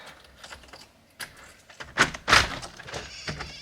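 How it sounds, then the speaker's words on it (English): A living room door opens indoors with a few scattered soft clunks and knocks, then a louder pair of thumps near the middle, all close and with no talk. "I'm just gonna open the living room door"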